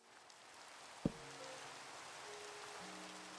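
Rain falling in Minecraft, a soft, even patter throughout, with a single sharp knock and faint low tones over it.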